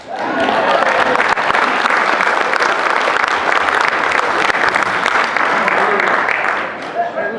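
A Rotary Club audience in Beaufort, South Carolina bursts into loud, dense applause from a roomful of people, sustained evenly for several seconds before tapering off at the end, with voices mixed into the clapping.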